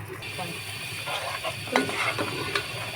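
A paste of garlic, ginger, cumin, chili powder and turmeric is stirred in a hot pan, with a close, continuous sizzle and a few sharper scraping strokes as the spoon moves.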